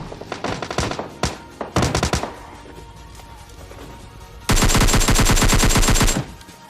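Video game gunfire: bursts of rapid automatic shots, some short and some sustained, with a long loud continuous burst near the end, close and dominant.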